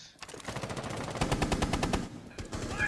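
Rapid automatic gunfire from a weapon in the tactical shooter Rainbow Six Siege, a sustained burst of fast, evenly spaced shots that stays loud and close with no talk over it.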